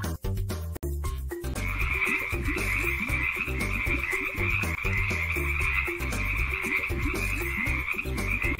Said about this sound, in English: Frog sounds croak.